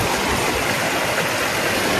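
A small mountain stream rushes over rocks, a dense, steady, close roar of flowing water with no pauses.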